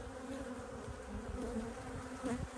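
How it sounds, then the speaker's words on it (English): Honey bees drone steadily at an open hive during an October inspection, a dense, continuous buzz of many workers close by with a slight waver in pitch, no voices. "Just all the worker bees are home."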